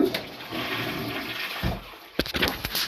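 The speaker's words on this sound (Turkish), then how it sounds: "Sifon sesi girsin araya" A toilet flushes nearby, a rushing gurgle of water that surges and then drains off with splashy bursts, no one speaking.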